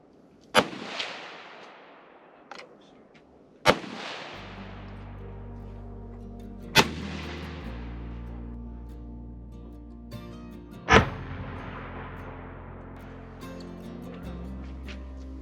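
A survivalist shotgun-style tool fires beeswax-sealed shells outdoors at a range: four loud, sharp gunshots with long rolling echoes spaced a few seconds apart, plus a fainter crack, with steady wind or engine rumble between them.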